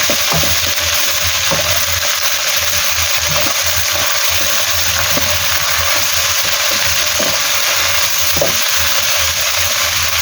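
Pork and chives stir-frying in a hot pan, a steady loud sizzle with faint scraping and stirring clicks throughout, no voices.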